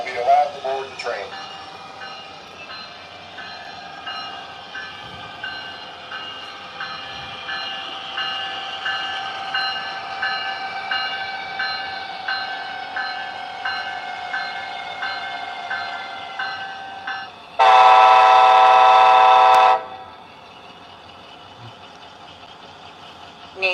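An ACS-64 electric locomotive's steady droning hum rolls past, then a loud, sustained high horn blast sounds for a couple of seconds before the noise fades.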